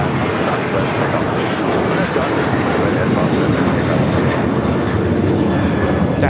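An American Airlines Boeing 737-800 departs Los Angeles International Airport, a heavy, unbroken engine roar filling the whole stretch while voices speak over it.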